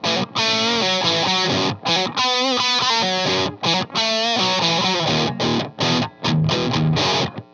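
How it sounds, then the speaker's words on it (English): A Gibson guitar with P90 pickups played through a distorted tone, thick sustained chords and riffs filling the clip at steady loudness, broken by brief pauses and choppier strums near the end. "Now let's move to the distortion side of things and see how this guitar fares."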